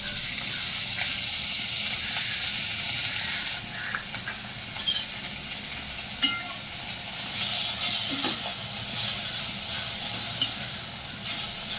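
Fenugreek leaves sauté in ghee in a pan, giving a steady bright sizzle and hiss throughout, broken by occasional stirring clicks and scrapes, close and alone without talk.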